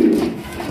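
A strawberry pigeon coos once, a short, close, low throaty call of under a second, with no other sound.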